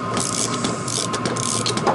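A ratchet turning a 17 mm bolt clockwise on a 1985 Honda ATC250SX ATV engine gives a rapid, continuous run of close metallic clicks, steady for a couple of seconds with no talk.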